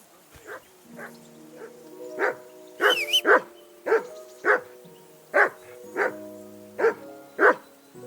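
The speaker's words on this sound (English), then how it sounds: "that barking's driving me nuts" A dog in the video game Kingdom Come Deliverance 2 barks about a dozen times at a steady, insistent pace. Each bark is loud and sharp, and short gaps separate them.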